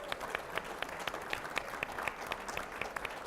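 A conference audience claps loosely in a room, a scattered patter of hands that goes on steadily for a few seconds.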